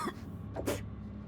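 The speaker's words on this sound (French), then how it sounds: "C'est une vilaine toux, ça." A character coughs in the horror video game House of Ashes: a few short, harsh cough bursts, fairly close, heard over a low ambient background.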